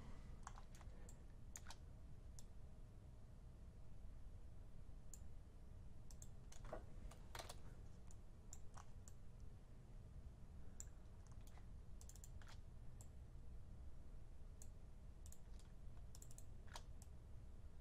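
Computer mouse clicks, including quick double clicks, while modelling in Rhino 7, scattered sharp ticks over a steady low background hum, close and fairly quiet.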